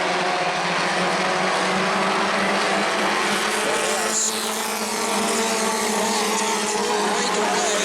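Toyota stock car racing on the New Smyrna track during a Bomber A feature, a steady loud roar of engines with a brief swell as a car passes close by.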